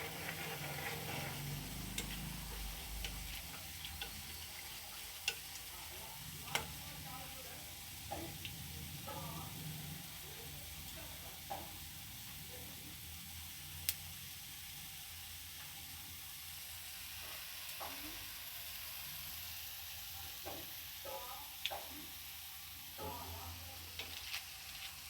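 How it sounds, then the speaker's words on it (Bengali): Round pieces of food fry in a pan over raised heat, a continuous soft sizzle broken by repeated clicks and scrapes of stirring, steady and close, with no one speaking. "দেখতে পাচ্ছেন কত সুন্দর ভাজাটা হচ্ছে"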